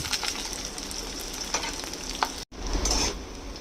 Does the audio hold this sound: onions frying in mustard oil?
yes